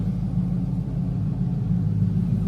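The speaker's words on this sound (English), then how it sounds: "I believe the exhaust has been modified, because listen to this thing." A 1999 Pontiac Trans Am WS6 with a modified exhaust idles with a steady, deep, loud rumble close by, a continuous low throb with no revving and no talk.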